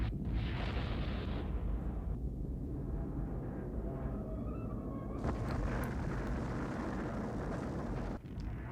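A rocket ignites and roars on launch in the 1983 film The Right Stuff, a loud, continuous rumbling blast that fills the whole stretch and swells brighter partway through.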